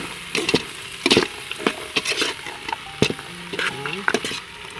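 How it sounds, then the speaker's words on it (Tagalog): Hotdogs sautéing in a pan on an improvised cooker, with steady sizzling broken by repeated scraping and stirring strokes and a few clinks of a utensil, close and fairly loud. "ilagay na natin ito sa pagisa ng hotdog natin"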